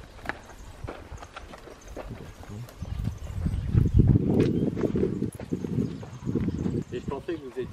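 A horse walking outdoors, hooves clip-clopping in an uneven rhythm that grows closer and louder midway, with people talking over the steps.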